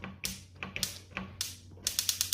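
A gas stove igniter stuck on keeps clicking, a faint series of sharp snapping ticks in irregular bursts, quickening into a rapid run near the end.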